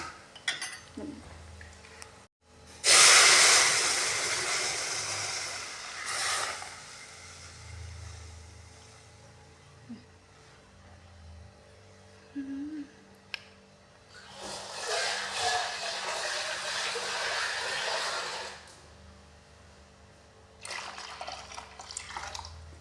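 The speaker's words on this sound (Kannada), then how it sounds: "ಇದ್ರಾಗ ಶಾವಿಗೆ ಹಾಕಿ ಫ್ರೈ ಮಾಡ್ಕೊಳ್ಳೋಣ ರೀ" Vermicelli frying in a pan for sheer khurma, with two long bursts of hissing sizzle and light clinks of stirring, separated by quieter stretches, and no talking.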